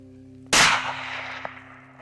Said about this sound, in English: The buck is about to clear the brush where Danny can get a shot